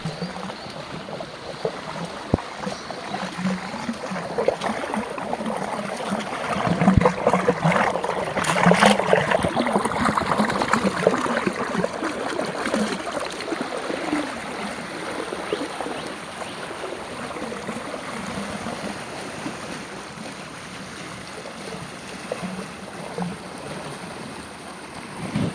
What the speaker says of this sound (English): The flow on the main part of the Loddon here at Three Bridges is also going strong.